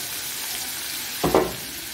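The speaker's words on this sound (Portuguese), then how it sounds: "Aí vamos deixar dar uma fritada para não ficar aquele gosto de farinha de trigo" Wheat flour fries in margarine in a pan for a broccoli soufflé, giving a soft, steady low sizzle with one brief louder scrape of stirring partway through.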